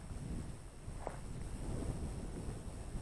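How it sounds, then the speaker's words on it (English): Steady wind buffets the microphone with a constant low rumble and roar, loud and close, with no voices. "it is pretty windy out here"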